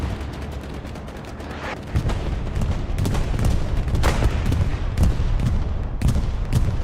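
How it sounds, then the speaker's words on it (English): Bombing-run explosions in Hell Let Loose on the Hurtgen Forest map: a loud, continuous rumble of blasts and heavy booms that swells after the first two seconds, with repeated sharp impacts breaking through. "Bomb run is coming down."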